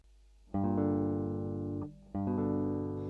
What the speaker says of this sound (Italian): Questo invece è da minore a maggiore, quindi ascendente.